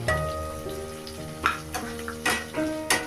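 Capsicum and whole spices such as cloves fry in a pan for a prawn fry, with a soft continuous sizzle broken by about five sharp spatula clanks as the mixture is stirred.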